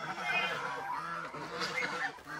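A goose honks several times close by, in harsh nasal calls over a farmyard background. Other fowl call faintly behind it.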